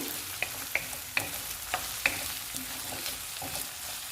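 Coriander powder frying in a pan for egg rice, a soft continuous sizzle punctuated by several sharp scraping clicks of stirring at irregular intervals.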